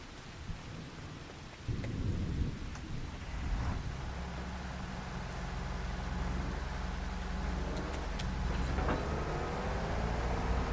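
Rain in the Farming Simulator 25 video game sets in as a dense, steady hiss with low rumbling swells like distant thunder, rising after a couple of seconds and continuing evenly to the end.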